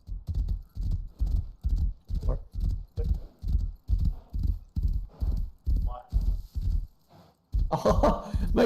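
Hooves of a horse in the game Rust clip-clop in a steady, regular walking rhythm, loud and close, stopping briefly before a burst of louder noise at the end.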